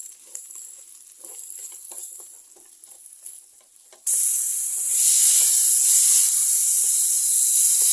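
Chopped tomatoes cook in a pan for a dried fish curry. Light stirring and scraping come first, then a loud, steady sizzle takes over for the rest.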